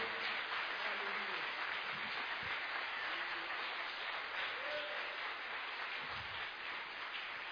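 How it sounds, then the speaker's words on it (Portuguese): A church congregation applauds at an evening service, a sustained dense wash of clapping that holds steady for several seconds and tapers slightly toward the end, with faint voices mixed in. "Aplauda ao Senhor."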